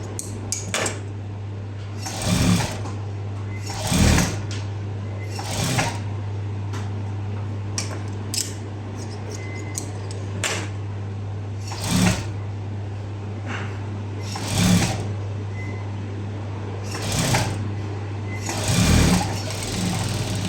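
A sewing machine stitches contrast piping on thin saree cloth in short, separate runs of rapid clatter over a constant low hum, heard close without speech.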